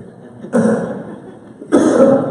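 Two separate coughs from a man with a cold, close and fairly loud, about a second apart, with quiet breathing between them.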